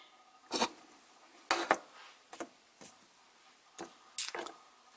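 A dull kitchen knife slicing through a lime on a cutting board while cooking street tacos in an RV, six or so short crunching, squishing cuts spaced irregularly, close and fairly quiet with no talking.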